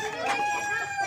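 Hens cluck and call continuously in a dense flock nearby in an indoor chicken room, a busy layered chorus of fowl with a rooster-like crow rising briefly.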